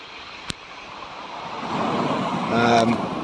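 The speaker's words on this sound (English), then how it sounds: "You can hear the waves crashing in." Waves breaking on a beach with colourful stones near a small river, a broad surging wash that swells louder toward the end, with a brief knock early on.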